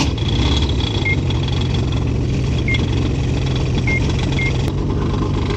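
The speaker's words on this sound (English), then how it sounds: "you will soon hear a classical Trabant style sound when the two-cylinder engine springs to life." A two-cylinder snowmobile engine runs loud and close with a Trabant-style two-stroke tone, holding a steady, unbroken drone throughout on a snowy forest road.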